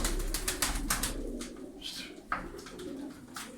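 Soft cooing of pigeons of a dark-coloured tumbler breed close by, with a few low calls among faint rustling and shuffling noises in a loft.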